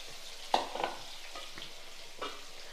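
Small fish fry in hot oil with a faint, soft sizzle, marked by a couple of brief louder crackles as pieces go in or shift in the pan.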